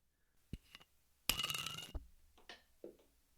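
A twist-off cap cracks open on a bottle of Old Overholt rye or Fiddler Unison bourbon, a brief metallic ratcheting snap close by, framed by faint clicks and handling noises.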